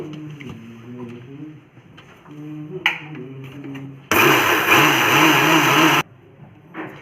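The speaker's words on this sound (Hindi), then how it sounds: "देखो अब मैंने तिल मिक्सी के जार में डाल लिए हैं" A kitchen mixer grinder jar loudly pulverizes roasted sesame seeds in one steady burst of about two seconds. Someone speaks before and after it runs.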